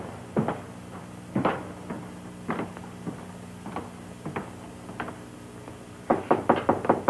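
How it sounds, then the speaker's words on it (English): Knocks on an interior door come in irregular groups, a few sharp raps at a time, fairly close and clear with no talking, and a quicker burst of knocking arrives at the end. "Better knock before you go in."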